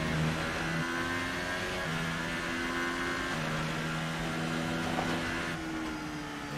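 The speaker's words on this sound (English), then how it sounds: "you really can hear that engine like crank in the back" A McLaren Formula 1 car in the F1 2018 racing game on the Belgian Grand Prix circuit, its engine droning loud and steady throughout, pitch stepping up and down through gear changes, with no one talking over it.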